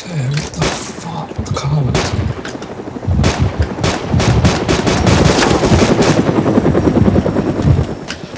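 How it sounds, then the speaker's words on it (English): A helicopter in DayZ fires its machine gun, a loud rotor drone under rapid, dense bursts of gunfire that intensify after the first few seconds and keep going steadily. "Oh, he has a machine gun."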